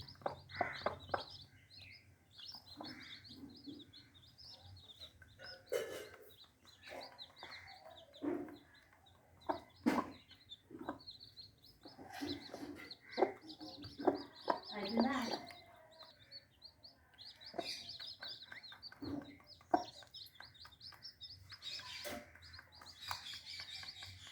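A hen clucks among her newly hatched chicks, whose thin, high chirps come in frequent close bursts, with a person talking over them now and then.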